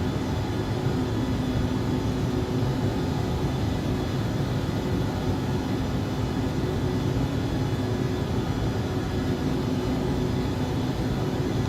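An XCrafts ERJ145 regional jet climbs toward flight level 190 in X-Plane 11, giving a steady, broadband cabin-style engine roar with a constant low hum that runs unbroken and fairly loud, with no voices.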